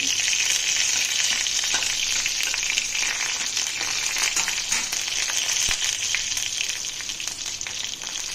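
Continuous hissing sizzle of a few garlic cloves frying in hot mustard oil, close and steady with fine crackles, gradually easing slightly toward the end.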